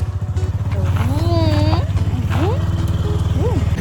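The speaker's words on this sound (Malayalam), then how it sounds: "നമ്മൾ ബൈക്കിനാണ് കേട്ടോ പോണത്, കാർ എടുക്കണില്ല" Steady low engine drone of a motorcycle ride on a sunny day, loud and continuous throughout, with people talking over it.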